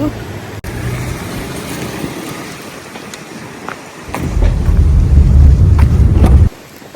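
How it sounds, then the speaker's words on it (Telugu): Strong storm wind with rain roars and buffets a nearby microphone outside a station, a steady rushing gust that swells into a heavy low rumble for a couple of seconds before dropping away. "చూస్తున్నారు కదా గాలి ఎలా వస్తుందో ఈరోజు స్టామ్ అంట"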